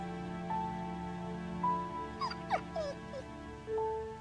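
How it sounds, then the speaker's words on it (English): A dog whimpers in a series of short, high, wavering whines and faint yips, close and soft, over a steady low background hum. "Doggy."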